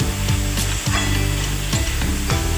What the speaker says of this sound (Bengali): এবার এটা ভালোভাবে কষিয়ে নিতে হবে